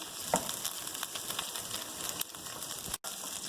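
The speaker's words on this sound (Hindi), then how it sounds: "हम इसे फ्राई करेंगे इसी ऑयल में" Okra (bhindi) frying in oil with browned onions, a close, even crackling sizzle that holds steady throughout with a soft stir and a brief dropout near the end.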